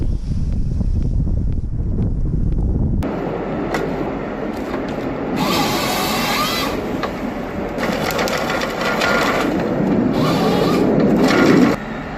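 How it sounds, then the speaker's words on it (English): Strong freezing wind rushes and buffets the microphone through frosted timber during logging. The roar is loud and continuous and swells in gusts. "Freezing wind, frosted timber."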